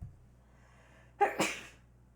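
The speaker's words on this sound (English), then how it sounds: "I gotta sneeze" A single close, loud sneeze, a sharp intake followed by an explosive burst, breaks an otherwise quiet room.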